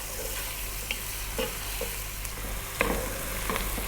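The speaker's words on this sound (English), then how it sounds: "So we're going to go for about 5 minutes here, stirring fairly often." Garlic frying in a pan while being stirred often, a close steady sizzle punctuated by repeated spoon scrapes and taps, heard alone without talk.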